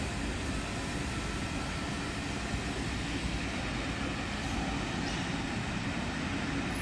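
Train hauled by locomotive 57313 at Lime Street station, a constant loud broadband rumble and hiss of the engine and rolling stock, steady with no distinct events and no voices.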